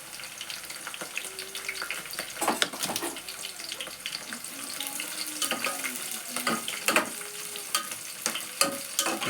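Green chillies fry in a pot of chicken curry with a crackling sizzle, while a spoon stirs and scrapes repeatedly and water clatters faintly in the background.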